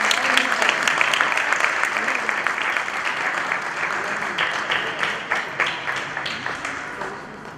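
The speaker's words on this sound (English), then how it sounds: "They need a big round of applause" Audience applause at a devotional Bhagavat gathering, dense at first, then thinning into distinct rhythmic claps toward the end.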